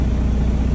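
A truck engine rumbles loud and close during an in-cab trailer tug test, holding a steady low drone.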